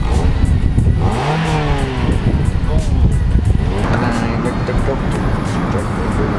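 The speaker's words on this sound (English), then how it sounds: "we've got a clip of you revving it" A car engine revs loudly with rising and falling pitch sweeps, close by, while people talk over it.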